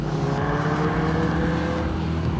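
A Triumph Thruxton R 1200cc motorcycle overtakes, its engine a loud, steady drone close by with a slight rise in revs as it passes; no talking.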